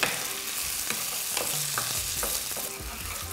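Potatoes stuffed with cottage cheese fry in a pan and are stirred, producing a close, steady sizzle broken by scraping stirring strokes, with no talk.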